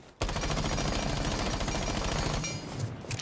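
An MPX submachine gun fires in Rainbow Six Siege, a continuous rapid burst of automatic gunfire lasting about two seconds, loud and close, followed by a few scattered shots and game sounds.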